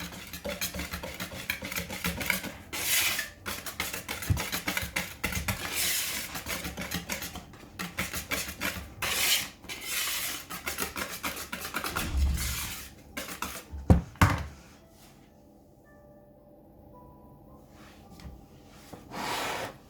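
Fruit cake batter whisked by hand in a bowl after almond extract goes in, a busy run of scraping, clinking strokes against the bowl that stops abruptly near the end, leaving near silence.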